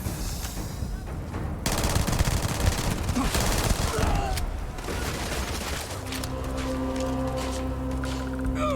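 Rapid gunfire in the sci-fi video game Starfield, dense bursts of shots with booming impacts, loud and continuous, then settling into a droning hum with echoing effects.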